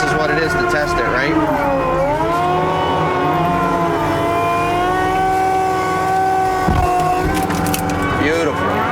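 Diesel engine of a TV620B skid steer running hard with hydraulics at their fastest setting, a loud sustained drone whose pitch rises and falls as the machine works, with clanks near the end.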